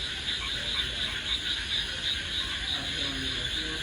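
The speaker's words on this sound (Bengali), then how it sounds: "জিজি পোকার যেই ডাকটা এটা আর কি" Crickets chirp at night in a continuous, rapidly pulsing high trill, steady and fairly loud over a soft background hum.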